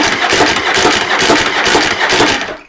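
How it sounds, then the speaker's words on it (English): Yamaha Virago XV750 motorcycle starter cranking the engine, a loud, close, continuous mechanical whir with a rapid pulsing chug that runs steadily before cutting off abruptly at the end, with no talking. "Well, it stays cranking, but it's just as noisy."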